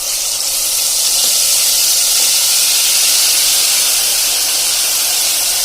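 Tomato gravy poured into hot oil with spices and a pinch of asafoetida sizzles loudly and steadily, a dense, even hiss that holds for several seconds.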